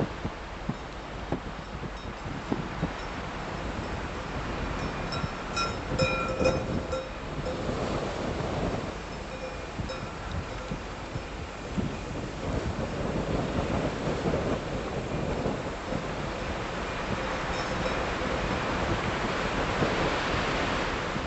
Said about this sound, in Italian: Il vento soffia impetuoso sui pantani di Accumoli